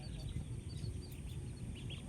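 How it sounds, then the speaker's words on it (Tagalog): Ducks quack and honk faintly in the background over a steady low rumble, with soft murmuring voices nearby. "Papakain ng mga alaga natin bibe"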